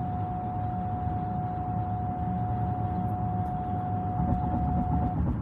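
A steady electronic lane departure warning tone sounds continuously for about five seconds over the low rumble of a 2022 Jeep Grand Cherokee L driving on the road.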